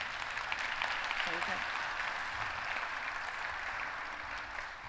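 Audience applause for a speaker at a business talk on the cognitive enterprise, a steady broad wash of clapping lasting throughout, with a voice speaking briefly over it.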